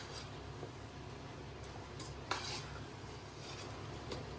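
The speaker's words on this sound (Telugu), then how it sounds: "ఇప్పుడు వీటిని బాగా కలుపుకోవాలి." A spoon scrapes and clinks in a pot while mutton curry ingredients with chili powder are stirred together, soft irregular scraping with a few sharper metallic taps, fairly quiet and close.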